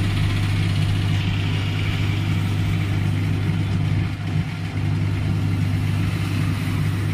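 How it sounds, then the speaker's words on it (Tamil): A Cello air cooler's motor runs with a steady, loud, continuous hum and whir, unchanging throughout with no talk over it. "நமக்கு மோட்ரு ஓடுது, சவுண்டு கேட்குது."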